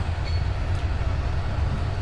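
A train rolls past in a Pakistani village near a river, a steady, continuous low rumble of wheels and carriages heard at some distance.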